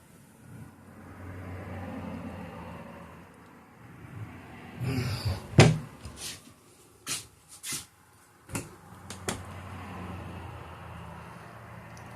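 Several soft thumps and clunks of kitchen cabinet doors opening and shutting inside a 2025 Jayco Redhawk 24B RV, spaced irregularly over a low steady background hum.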